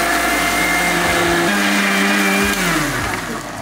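A kitchen mixer grinder grinds onion and tomato chutney, a loud, steady motor whine with a brief dip in pitch partway through as the load shifts.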